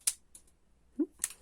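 A crimper tool bought from AliExpress cutting, with three short crisp snips: a bright click near the start, a duller low thunk in the middle, and another sharp snap at the end, close and alone with no talk.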